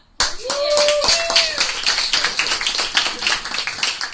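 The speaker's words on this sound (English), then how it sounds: "Big round of applause" Applause at a club meeting: a crowd claps steadily and fairly close, with a few voices briefly heard under the clapping.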